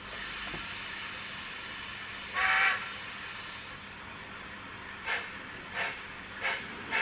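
A model train on the Pacific East Coast Model Railway layout runs forward with a low steady rumble, broken by one longer hissing burst and then several short, evenly spaced hisses, all at a moderate level.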